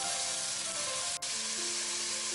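Beef stir-fries with green onion in a pan for a spicy beef soup, a steady close hiss of sizzling oil filling the short stretch without talk.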